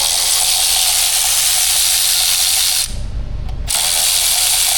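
Steady loud whirring hiss of an electric ratchet running close by on a Chevy Cruze 1.4 engine with a blown seal, with a brief dip partway through before the buzz resumes.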